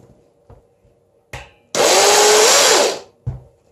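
A food processor whirs in one loud burst of about a second, chopping ingredients for a lahmacun topping, bracketed by a few short clicks and knocks.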